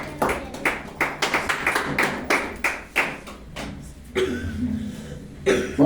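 Church congregation clapping during a Spanish-language service, uneven bursts of hand claps and taps in a rhythmic, irregular pattern with a pause near the end before more claps.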